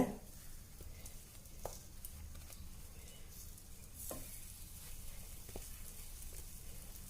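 Sweet potato slices fry in a lightly oiled kadai, giving a soft, continuous sizzle with occasional faint clinks of stirring, close but fairly quiet.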